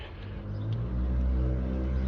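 A car passes nearby on a road, its low engine rumble swelling steadily over about two seconds as it approaches, with no voices.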